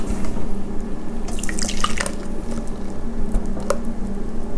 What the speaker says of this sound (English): we are going to just pour our yogurt mixture into the strainer